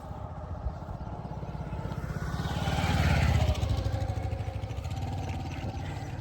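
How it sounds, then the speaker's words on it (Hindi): Motorbike engine approaching from behind on a road, a steady buzzing mid-pitched drone that swells as it draws near and passes, then continues at a constant level. "पीछे से बाइक आ रही है भाई, थोड़ा साइड हो जाते हैं।"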